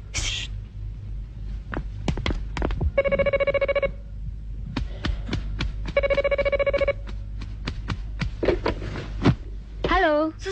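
An old landline telephone rings in an early-1990s Indonesian film scene, two long electronic bursts of repeated trilling separated by clicks and handling noise, close and clear.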